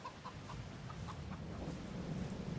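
Chickens on a Farming Simulator 22 farm cluck in a quiet, steady string of short calls, heard faintly over the low rumble of a rainstorm.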